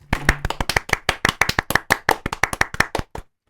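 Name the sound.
audience applause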